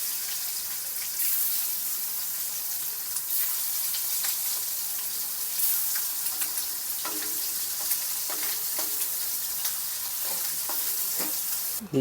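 Frying on a wok in hot oil, a steady close hiss and sizzle runs throughout with scattered crackles and small pops, with no talk over it.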